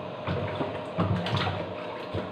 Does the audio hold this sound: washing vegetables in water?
yes